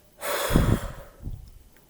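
One deep breath, drawn in through the nose and then released through the mouth: a strong airy inhale followed by a softer exhale, close and alone.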